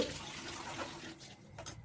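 Water poured from a vessel into soaked rice with green chillies for paneer pulao, four cups for two of rice; a soft, steady splashing close by, fairly quiet and without voices.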